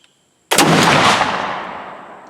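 A flintlock rifle fires with one loud, sharp report, loaded with an easier-seating projectile, and the blast rings out and decays slowly over the next two seconds.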